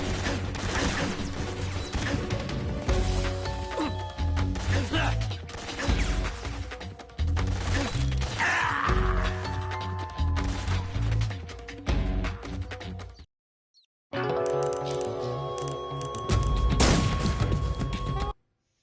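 Dense, loud gunfire from the video game Metal Gear Solid 3: Snake Eater, with rapid overlapping bursts and impacts, a short silent gap near the end, then more sustained shooting.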